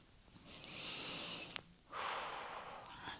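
Audible breathing during a pilates stretch: a long drawn inhale, a brief sniff-like catch, then a strong exhale, close and fairly soft with no talking.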